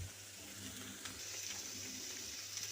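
Clam meat (kakka erachi) sautéing in a pan, a soft, faint sizzle with light stirring scrapes, steady and quiet with no talking.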